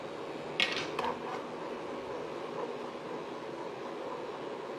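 Sugar is stirred into a black bean sticky rice mixture in a pot: a couple of light utensil clinks against the pot, then a soft, steady background with no other distinct sounds.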